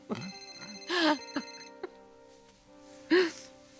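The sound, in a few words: cell phone ringing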